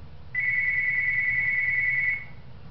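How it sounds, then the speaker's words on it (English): A phone rings with a single steady electronic tone that holds for about two seconds, fairly loud over a quiet low room hum, with no talking. "And that's just a phone, I'm going to let it go."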